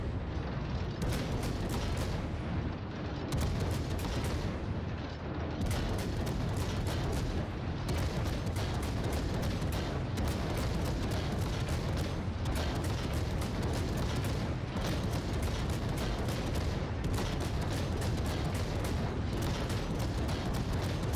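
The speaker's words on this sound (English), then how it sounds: "but I'm gonna start firing right now." Rapid-firing 127mm guns of the French cruiser Colbert in World of Warships, a dense barrage of booming salvos repeating in quick regular bursts with brief pauses between, loud and continuous with no voices.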